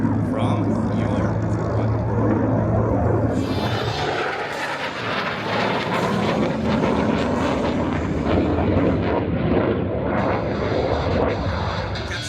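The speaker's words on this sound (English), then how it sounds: "Captain Smith prepares to demonstrate the combination of the F-16's exceptional thrust and flight control system to make the knife edge maneuver possible" F-16 fighter jet flying a knife edge pass at the Warbirds Over Wanaka airshow in New Zealand, a loud continuous broadband engine roar that holds steady throughout with a brief swell early on and faint commentary beneath it.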